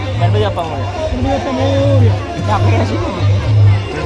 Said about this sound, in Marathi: चला भरपूर गर्दी आहे